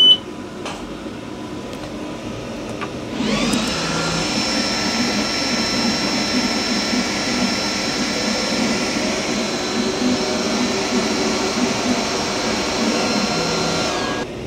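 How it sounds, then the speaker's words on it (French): A ventilation fan switches on with a click and spins up into a steady, loud whirring drone with a tonal hum, running evenly and alone until it cuts off near the end. "Donc j'allume la ventilation."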